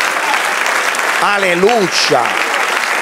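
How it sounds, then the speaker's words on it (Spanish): A church congregation applauds through a worship service, a steady wash of clapping and cheering that carries on while a voice calls out over it. "Den un aplauso"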